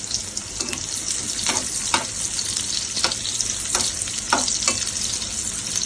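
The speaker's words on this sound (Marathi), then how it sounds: "तेल चांगलं तापलंय आहे तर कांदा टाकून घेते कांदा जरा लालसर करते" Onion fries in hot oil in a pan, a loud continuous sizzle carrying repeated sharp scrapes and taps of a spoon stirring at an uneven pace.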